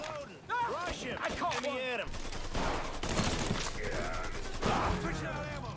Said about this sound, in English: shooting the, alcohol bottles cause a fire